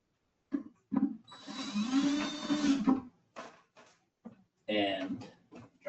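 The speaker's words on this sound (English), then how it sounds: "what I'm going to do is take another, which is a step bit, and I'm going to kind of ream it just a little bit." A drill fitted with a step bit briefly reams out a hole, giving a steady whirring burst of about two seconds. Someone speaks just before and after it.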